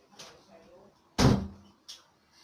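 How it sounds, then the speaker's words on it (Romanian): A small door is pushed shut with one sharp, loud bang, followed by a softer knock a moment later, with a faint voice murmuring before it. "a fost doar ca să închid ușița"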